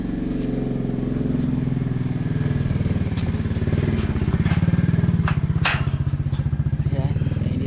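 A motorcycle engine runs close by at idle, a loud, rapid pulsing putter with steady rhythm, slightly swelling mid-way, with a few faint clicks over it.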